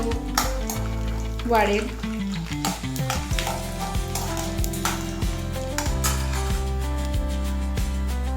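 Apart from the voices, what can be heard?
peanuts frying in a pan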